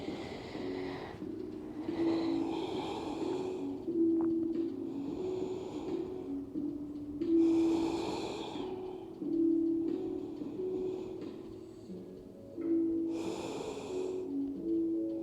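Slow, deep breaths during a Pilates stretch, with long, audible inhales and exhales in a steady rhythm, close up over a faint steady hum.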